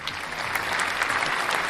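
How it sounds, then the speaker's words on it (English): Brief burst of steady hand-clapping applause from a small group, dense and even throughout, with no talking over it. "God, let me applaud you, Darla."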